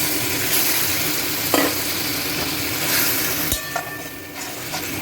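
A spice paste sizzles vigorously in a hot pan after a splash of water goes in, with a dense, continuous crackle, a few stirring scrapes and brief bursts of louder hissing. No voices are heard.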